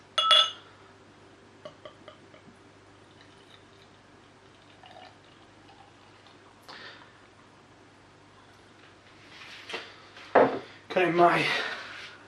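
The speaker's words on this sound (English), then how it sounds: "So let's get this in the glass." Bottled Magic Rock Human Cannonball double IPA goes into a stemmed Magic Rock glass: light glass clinks at the start, a quiet stretch, then a brief, loud, foamy splash of pouring near the end.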